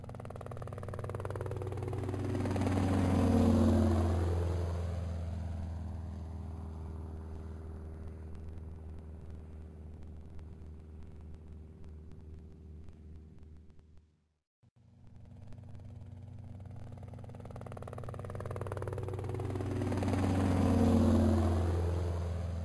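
Engines of a little red toy-like airplane drone steadily, swelling louder as if passing by, dropping out briefly, then swelling again; a continuous mid-low rumble with no talking.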